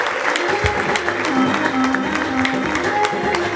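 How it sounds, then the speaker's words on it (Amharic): Church congregation applauding with ululation, a steady wash of clapping and high trilling voices filling the room at close range. "እልልታ ጭብጨባ ለኢየሱስ"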